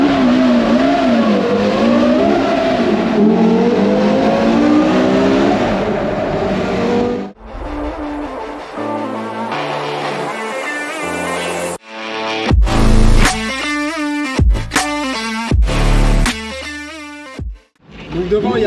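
Porsche Carrera GT V10 engine revving near Monaco, a loud sustained roar with rising and falling pitch, then a cut to sharp, punchy blips and rapid throttle stabs separated by near-silent gaps.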